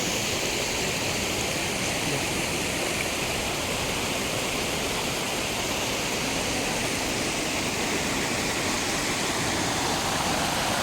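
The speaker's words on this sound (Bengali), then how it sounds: "এই হচ্ছে ওপর থেকে ঝর্ণাটা" The Devkund waterfall in Odisha, heard from above as a loud, steady broadband roar of falling water that fills the whole clip with no break.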